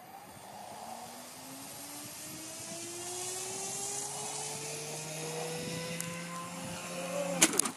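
A VQ Models RC Douglas DC3 Dakota twin-engine model plane drones at a distance on its maiden flight, engine pitch climbing steadily, with a few sharp clicks near the end.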